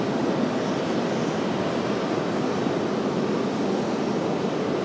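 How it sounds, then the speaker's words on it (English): A Delta Boeing 737-900 jet arriving at RDU gives a loud, steady broadband engine roar with a faint high whine, constant for the whole stretch and without voices. "So Delta 2699 going to be our next arrival, coming in from Minneapolis, 737-900."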